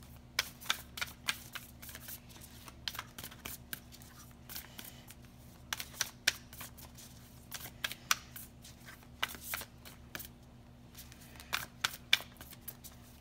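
Tarot cards shuffled by hand in a quiet room, a run of crisp riffling bursts and soft taps arriving in irregular clusters, close and fairly faint against low background hum, with no talking.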